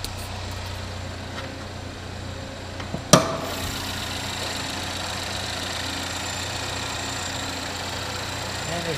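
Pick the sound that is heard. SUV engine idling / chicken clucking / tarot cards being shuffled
SUV engine idling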